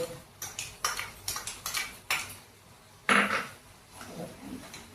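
Spoon mixing masala into mutton curry in a metal pot, giving a run of close, sharp clinks and scrapes against the pot in quick bursts, then a louder scraping stroke and softer stirring.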